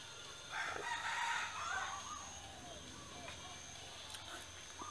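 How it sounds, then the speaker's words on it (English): A rooster crows at dusk in a backyard, one drawn-out call rising in the first couple of seconds at moderate distance, with faint birds and ambient hum continuing underneath. "Rooster."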